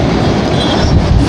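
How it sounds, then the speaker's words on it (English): A power drill bores out a part on a John Deere X520 riding mower during PTO clutch and deck bearing repair, a loud, continuous close-up grinding whir that holds steady throughout. "I want to drill this out."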